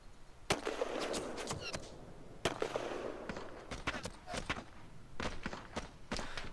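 Naval guns fire in the Panzer Battles North Africa 1941 war game, a series of sharp, distant-sounding booms and cracks at irregular intervals over a faint background rumble.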